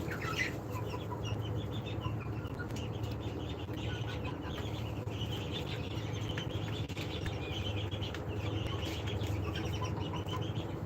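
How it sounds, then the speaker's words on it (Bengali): A flock of multi-coloured laying hens about 47 days old clucks steadily and continuously at close range over a low background hum, with no talking. "দেখেন এখানে মাল্টি কালার মুরগি আছে সবগুলো এই যে দেখেন এই মুরগিটা দেখুন এটা হচ্ছে মাল্টি কালারের মুরগি"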